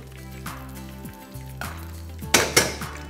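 Fried prawns tossed in a pan give a few light clattering knocks, then two sharp crisp rattling bursts near the end, with a faint low frying hiss underneath.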